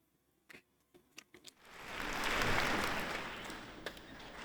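An audience claps at a performance. A few scattered claps come first, then the applause swells into a sustained, moderately faint roar that slowly tapers off.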